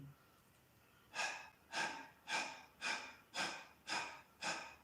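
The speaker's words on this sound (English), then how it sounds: "so it's panting" Seven rhythmic, forceful panting breaths follow a quiet pause, evenly spaced about every half second, close and clear, as part of a diaphragm breathing exercise.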